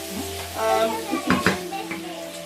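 King prawns and vegetables stir-frying in a wok, a steady loud sizzle with scraping stirs and a couple of clanking utensil hits against the pan.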